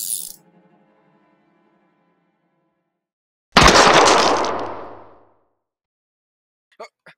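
A single gunshot goes off in a Minecraft escape-the-night game, a loud sharp crack with a long decaying ring after several seconds of near silence, followed later by a couple of faint clicks.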